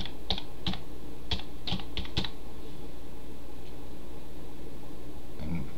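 Computer keyboard typing in a series of quick clustered keystrokes over the first two seconds or so, then a quieter stretch with a faint soft click near the end; close-up over a steady background hiss.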